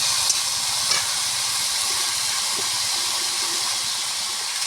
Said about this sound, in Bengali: তো দেখতে পাচ্ছ এখন আলুগুলো পুরো ভাজা হয়ে আসছে পরপর